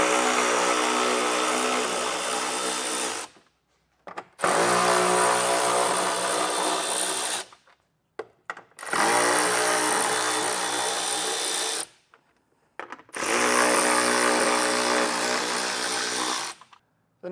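A power tool with a 10mm socket removes radiator support bolts on a 2025 Ford, in four loud, close whirring bursts of several seconds each, with short silent gaps between them.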